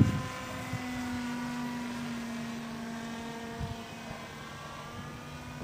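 A small PVC model airplane on its maiden flight, a steady buzzing motor drone with a sustained tonal whine that drifts gently in pitch, heard at moderate distance and continuous throughout.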